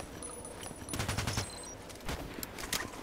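An EBR marksman rifle in a video game fires on automatic in rapid, closely spaced shots, with a louder cluster in the middle and more bursts toward the end, fairly distant-sounding and with no talk.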